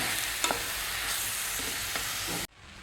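A spoon stirs cooked jackfruit and chickpeas through a hot spiced pan, giving a continuous scraping sizzle with a few sharper scrapes, before the sound cuts off abruptly near the end.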